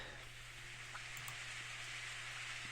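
Rain falls steadily as a soft, even hiss with a few faint individual drops, accompanied by a low constant hum; no one speaks.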